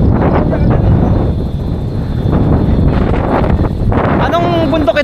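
Strong wind roars across the microphone on a mountain in Aroroy, Masbate, Philippines, in steady, buffeting gusts, with a voice briefly audible near the end.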